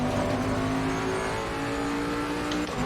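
Turbocharged GT race car in Assetto Corsa Competizione at the Nürburgring, a loud steady engine drone with a sustained tone holding nearly constant, close and alone with no talk.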